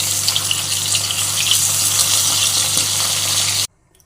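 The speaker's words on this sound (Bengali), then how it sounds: "মাছ ভাজা হয়ে গেছে" Fish sizzles steadily in hot oil in a pan for a Bengali fish curry with potato and taro, a close, dense crackle over a low hum that cuts off abruptly near the end.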